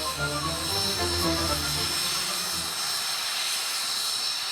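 A Mil Mi-26 heavy helicopter with two D136 turboshaft engines gives off a loud, continuous roar with a rumbling low end and a high turbine whine, steady and close throughout.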